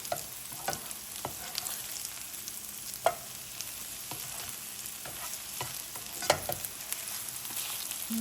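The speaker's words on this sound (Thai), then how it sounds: "ก็คั่วไข่ไปเรื่อยๆนะคะคั่วไข่ไปเรื่อย" Okra and egg being stir-fried dry in a pan, a steady soft sizzle broken by scattered scraping clicks of a spatula against the metal.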